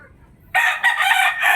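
Roosters, including a young talisay cross bred from Golden Boy stock, crow in San Miguel, Bulacan. A loud, close call breaks from near silence, dips briefly, and then carries on strongly to the end.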